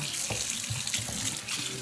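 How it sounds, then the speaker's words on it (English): Hot water runs from a kitchen tap in a steady splashing stream, close and continuous for a short moment, with no voices. "going to run some hot water in here real quick"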